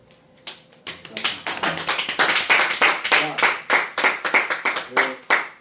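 A church congregation claps in a loud, fast, rhythmic burst that builds to a steady beat of sharp claps filling the room.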